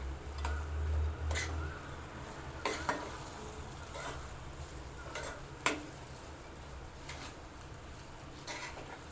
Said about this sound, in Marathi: आता आपण ड्रायफ्रूट टाकून घेऊया। मिक्स करूया।